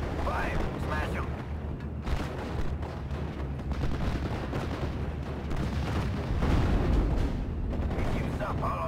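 Steel Division: Normandy 44 wartime battle with dense, continuous artillery and gunfire rumbling throughout, heavy low booms layered over constant battlefield noise, with voices talking over the din.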